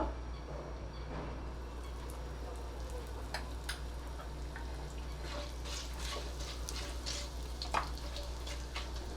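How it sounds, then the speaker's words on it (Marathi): Curry leaves and a pinch of asafoetida sizzle in hot oil or ghee while tempering for bisi bele bath, a steady close crackle dotted with sharp scattered pops over a constant low hum, with no talking. "कढीपत्ता घालतीये थोडंसं हिंग"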